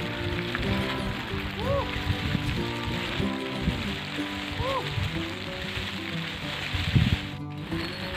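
Steady rain patters across the whole stretch at the summit of Mount Slamet, a broad hiss with scattered drops, while people talk and exclaim nearby underneath it.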